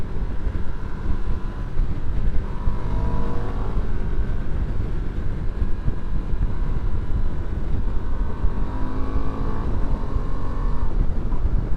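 Riding a 2025 Ducati Multistrada V2 motorcycle: a steady engine drone under heavy rushing wind, with the pitch shifting as the bike changes speed.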